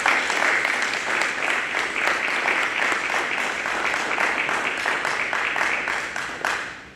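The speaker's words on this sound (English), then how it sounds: "let's give them a round of applause" Sustained applause from a school ceremony audience, dense and even clapping that holds steady for several seconds before tapering off at the end.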